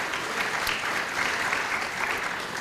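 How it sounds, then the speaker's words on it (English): Steady applause from a conference audience fills the hall, a dense, even clatter of many hands clapping throughout, with no talk over it. "yes, round of applause."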